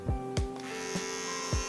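A Xiaomi Enchen Boost hair clipper at speed 1 gives a steady electric motor hum with bright harmonic whine, close up, with several dull knocks or clicks spaced through it.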